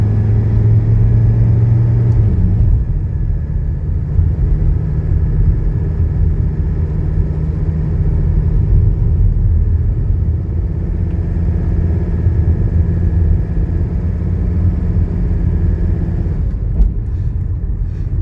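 A warmed-up 1985 station wagon engine idles steadily, a constant low rumble close by, running without a break for the whole stretch.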